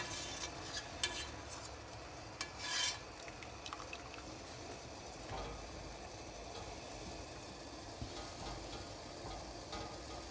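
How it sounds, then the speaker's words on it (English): Vegetables are stirred and swished in a pot of rapidly boiling water, giving soft bubbling and faint sloshing with occasional light clinks of a utensil against the pot. "you swish it around in the boiling water"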